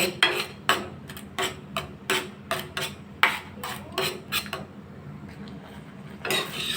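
Mango rice pudding made with Gobindobhog rice is stirred in a pan, giving a series of rhythmic scraping, clinking strokes of a spoon against the pan, close and fairly loud, then a brief pause and one more stroke.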